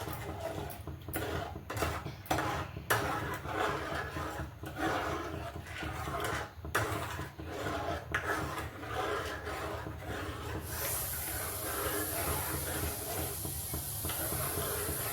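Sweet potato kheer being stirred in a pot with warm milk, steady rubbing and scraping strokes with a few knocks against the pot, later giving way to a broad hiss; no talking.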